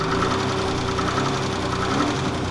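A BMW E30 with a swapped M50 engine runs at a steady, close idle, a continuous even rumble with a faint rhythmic pulse.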